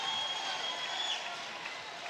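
Basketball crowd cheers and applauds in a high school gym after a made free throw in a boys bi-district playoff game, a steady dense roar with whistling and shouts.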